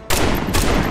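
Gunshots in the Marvel Midnight Suns video game ring out as a loud, dense burst of rapid fire lasting about a second, with a second surge partway through.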